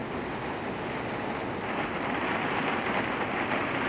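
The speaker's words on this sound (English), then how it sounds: "Doesn't look like it's going to stop anytime soon, this rain." Steady rain pours down over an Irish vegetable garden, a dense, even hiss with a constant close wash and no talk.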